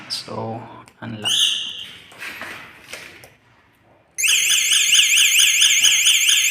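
After a few short beeps and chirps, a loud warbling electric scooter alarm starts up and blares continuously, close by.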